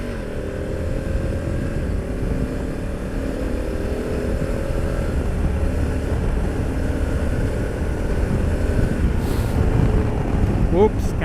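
Steady loud wind buffeting a helmet or handlebar camera on a Honda Africa Twin motorcycle in motion, a continuous low roar with engine drone underneath throughout, no one speaking.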